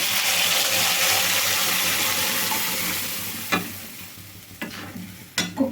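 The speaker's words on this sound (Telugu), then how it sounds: "తాలింపు అయితే బాగా వేగింది" Loud, even hiss of a spice tempering frying in hot oil for bottle gourd dal that gradually softens, then a few sharp scrapes as the pan is stirred.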